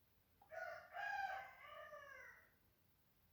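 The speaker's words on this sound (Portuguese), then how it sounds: "Os galos já estão cantando, vocês devem estar escutando aí pro final do vídeo." Roosters crow in a single long, drawn-out cock-a-doodle-doo that rises and trails off, faint and distant, with no voices over it.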